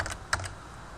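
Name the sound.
typing on a computer keyboard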